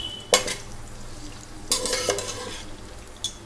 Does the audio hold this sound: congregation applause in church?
no